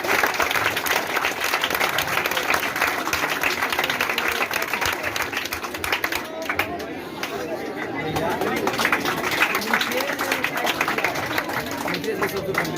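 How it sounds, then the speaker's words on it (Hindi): Applause erupts for a winner at a teachers' day celebration in a coaching class, a dense, sustained clapping crowd with chatter mixed in, loud and close throughout. "जोरदार ताली बजाइए।"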